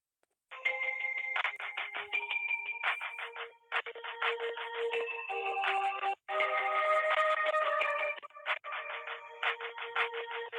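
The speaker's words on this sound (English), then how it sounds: "I'm going to put you on hold." Telephone call placed on hold, playing a tinny electronic melody of rapid beeping tones in a continuous pattern, briefly broken by short gaps, heard clearly and alone without talk.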